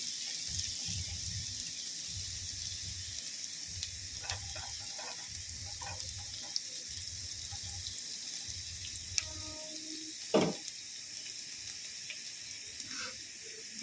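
Onions fry in a pan with a steady, broad sizzling hiss, browning for egg bhujia, with a few faint clinks of a utensil and one brief louder scrape near the end.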